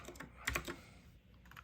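A few quiet keystrokes are typed on a computer keyboard. A short burst of close, faint clicks is heard with no talk.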